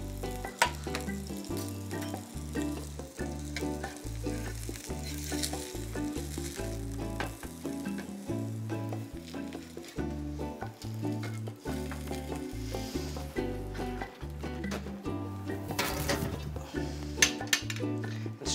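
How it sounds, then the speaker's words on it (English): Snapper fillets sizzle in oil on a small metal sizzle plate, a steady crackling hiss with occasional clinks of the plate, fairly quiet and close. "I like using these little sizzle plates, a little oil to coat so fish doesn't stick"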